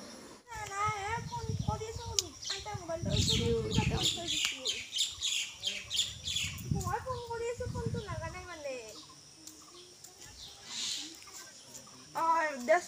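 Small birds chirping and twittering close by in a bird house at Krishnaguru Ashram, bursts of high calls mixed with people talking.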